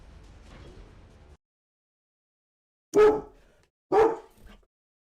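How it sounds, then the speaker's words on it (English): A dog gives two sharp, loud barks about a second apart after a stretch of quiet, with a faint murmur before them. "No barking."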